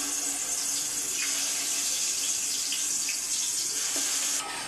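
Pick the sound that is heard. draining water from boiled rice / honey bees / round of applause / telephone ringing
draining water from boiled rice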